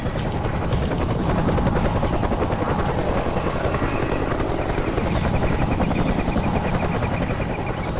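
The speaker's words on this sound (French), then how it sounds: "Un autre hélico arrive." A military helicopter approaches in the jungle setting of the video game Raven Squad, its heavy rotor thump and engine roar loud and continuous, filling the scene without any speech.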